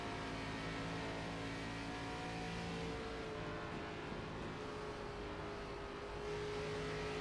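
An ARCA race car in iRacing coasts down pit road at Indianapolis Motor Speedway, a steady mid-level engine drone with faint gliding pitch lines, continuous and unhurried throughout, no voices.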